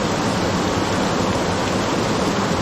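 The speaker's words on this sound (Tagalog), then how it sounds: "Ang lakas ng tubig." Strong, steady rush of water pours without a break, loud and close, a dense roar with nothing else standing out.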